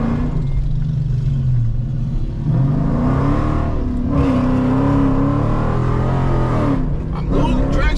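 A loud Chrysler 300 with a throaty exhaust revs and drones from inside the cabin while driving in Southern California, its low engine note rising and falling in pitch continuously throughout.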